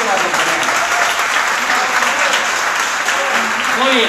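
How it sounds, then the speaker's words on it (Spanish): Strong, steady applause from a disco audience welcoming a singer onstage, dense clapping sustained without a break and a faint voice briefly audible underneath. "le recibimos con un fuerte aplauso"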